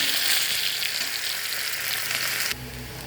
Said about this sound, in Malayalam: വെളിച്ചെണ്ണ ഒഴിച്ച് കൊടുത്ത് കുറച്ച് പുഴുങ്ങലരി കഴുകിയത് ഇട്ട് കൊടുക്കാം